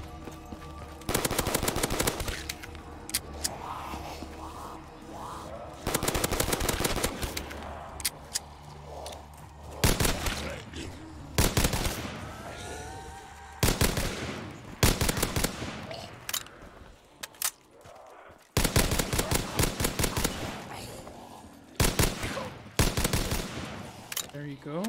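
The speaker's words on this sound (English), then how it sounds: "Here's the one, a shotgun." An ASG shotgun fires repeatedly in Black Ops 3 custom Zombies on PC: loud, sharp blasts arrive in dense clusters separated by short lulls, over a constant game soundscape.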